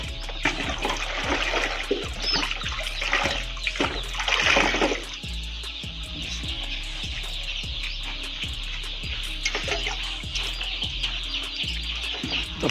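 Water is sloshed and shaken in a container to dissolve chick vaccine. A brief rushing splash stands out midway, under steady, dense peeping from many Golden Misri chicks close by.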